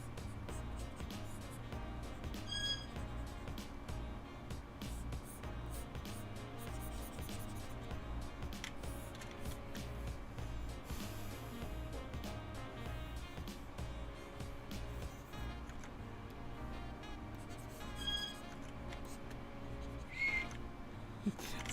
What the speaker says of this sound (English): my birds are calling for me